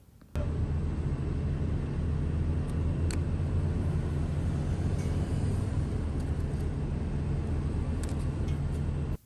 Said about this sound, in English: That's the guys grinding corn, filling the bunker.